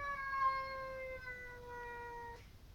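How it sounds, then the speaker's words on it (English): A single drawn-out cat meow falling slowly in pitch, fairly faint and alone against quiet room noise. "Be nice to that cat."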